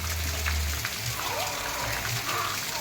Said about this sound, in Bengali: এই দেখো কত বৃষ্টি হচ্ছে আর এখান দিয়ে জল যাচ্ছে